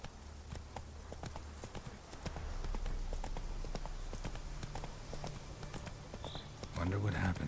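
Roach, a horse in The Witcher 3, trots with steady, distinct hoof clip-clops on hard ground, with a brief voice at the end.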